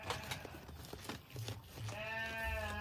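A local Gibas sheep bleats near the end, a wavering nasal call close by, after rustling and crunching movement sounds in a livestock pen.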